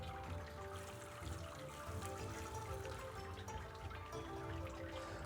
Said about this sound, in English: We're now gonna run 30 liters of sparge water over top of this grain bed.